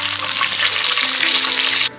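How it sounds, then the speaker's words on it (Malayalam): Cashews fry in hot ghee in a pan for Onam ari payasam, giving a loud, steady close sizzle that stops abruptly near the end. "ഇതിലേക്ക് കുറച്ച് അണ്ടിപ്പരിപ്പ് ഇട്ട് കൊടുക്കാം,"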